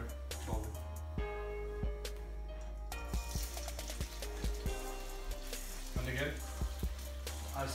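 Homemade egg balls fry in hot oil with a steady sizzle, broken by short clinks and taps of a utensil as they are turned, close and fairly quiet.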